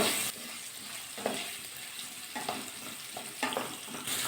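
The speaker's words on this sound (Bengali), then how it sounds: "আলুগুলো হালকা একটু ভাজা করে নেব" Salted potatoes fry in a wok with a constant soft sizzle, broken by several short scraping stirs at intervals, close but fairly quiet.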